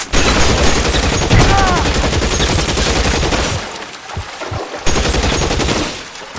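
Loud, sustained gunfire from the crime game L.A. Noire, a rapid barrage of shots that thins out near the end, with a brief whistling ricochet mid-burst.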